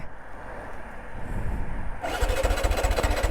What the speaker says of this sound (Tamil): கடைசியாக உங்களுக்கு இன்னொரு டைம் ஸ்டார்ட் பண்ணி காமிக்கிறேன் பாருங்கள் ஸ்டார்ட் ஆகுதான்ட்டு